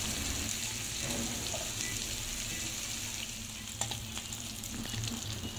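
Seasoned meat frying in a pan in its own fat, a dense continuous sizzle and crackle with a few light spatters, close and steady throughout.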